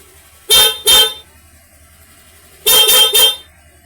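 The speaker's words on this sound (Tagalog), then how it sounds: "MDL flashing light with loud horn." An aftermarket MDL loud car horn gives two loud, blaring honks, a pause, then three more in quick succession, harsh and piercing with no other sound between.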